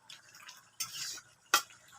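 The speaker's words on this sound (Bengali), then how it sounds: "কড়াইতে একটু কষাইয়ে আমি হচ্ছে পাতিলে দিয়ে দেবো, ঢেকে দিয়ে গোশতটা কষাই।" Meat being stirred and sautéed in a wok-style pan, beef or chicken on a gas stove, with a few separate scraping stirs and clinks of a utensil against the pan, close and moderately loud, no talking.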